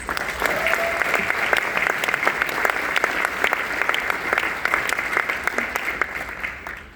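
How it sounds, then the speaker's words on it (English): Sustained applause from a graduation ceremony audience at a chiropractic college, dense steady clapping with sharp individual claps throughout, fading slightly at the end. "Let's give them a round of applause."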